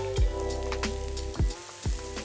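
Zucchini, with a dash of salt, hits a hot pan for a vegetable frittata, giving a steady close sizzle broken by a few soft thuds and stirring scrapes.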